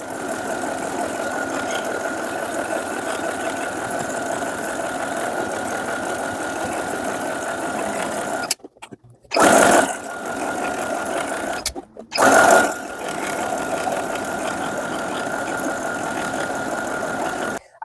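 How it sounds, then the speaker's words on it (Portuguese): Sewing machine running a zigzag finishing stitch on a ruffled blouse, a steady close mechanical whir that briefly stops and restarts twice in short bursts near the end. "agora eu já vou passar o zigue-zague para dar o acabamento"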